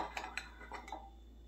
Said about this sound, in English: This is a large teaspoon here, so I'm going to put some in.